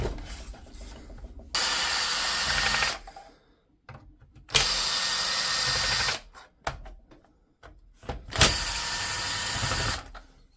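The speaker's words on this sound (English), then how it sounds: "we need to remove these screws." A power driver spins out screws from a Dewalt DCH253 hammer drill in three loud, whirring bursts of about a second each, separated by quiet handling clicks and rattles.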